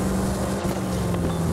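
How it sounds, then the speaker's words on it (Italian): Steady motorboat engine drone in the video game Man of Medan, a continuous low rumble with wind-like noise and no talking. "Accendi sto motore."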